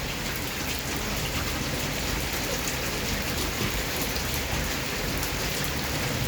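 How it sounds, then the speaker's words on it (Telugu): Heavy rain falling steadily outdoors and drumming on surfaces, a dense, even, unbroken hiss at close range with no voices. "ఇప్పుడు వర్షం కొంచెం తగ్గింది"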